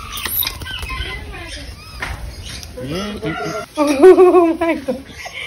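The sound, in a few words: birds calling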